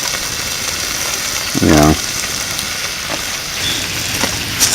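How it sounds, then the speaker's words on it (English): Sausages sizzle over an open campfire at a lakeside campground, a steady broadband crackle and hiss running throughout, with a brief voice cutting in near the middle. "sausages for dinner. Over top of the fire. It's sizzling nicely."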